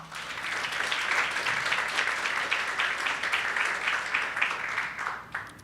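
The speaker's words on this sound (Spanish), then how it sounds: "Denle un aplauso al Señor." A church congregation applauds for the Lord during a Spanish-language sermon, a dense, steady wash of many hands clapping that holds for several seconds before thinning out near the end.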